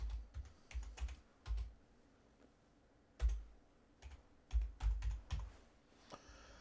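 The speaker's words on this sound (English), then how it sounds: "So, I'm typing a name here." Someone types a name on a computer keyboard in quick clustered bursts of close, crisp key clicks separated by short pauses.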